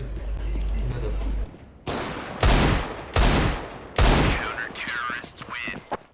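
AWP sniper rifle shots in Counter-Strike: four loud, sharp blasts spaced about a second apart, each with a short decaying tail, with someone talking in the game audio before the shots.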